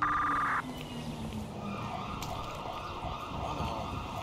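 An ambulance siren in the GTA 5 LSPDFR police game wails steadily at mid-range over road noise, after a brief sharp electronic tone at the start.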